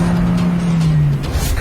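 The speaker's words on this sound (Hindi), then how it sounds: "वो देखो गाड़ी से भाग रहा है।" A car pulls away in a rural village setting, its engine note holding steady and close before fading slightly as it departs, with a brief rising whine near the start and no talking over it.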